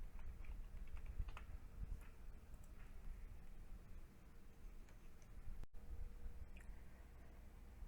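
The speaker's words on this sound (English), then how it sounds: "We will type the word garden into our search bar and then press the search button." Keys tapped on a computer keyboard as a word is entered into a library database search bar, a run of light clicks over about eight seconds with steady low room hum underneath and no voices.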